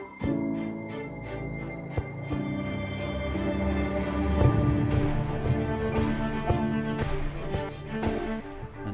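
A music track built with reversed reverb swells and delays and programmed bass drum booms, sustained tones swelling and overlapping while deep kick hits land at regular intervals, at moderate loudness with no voices.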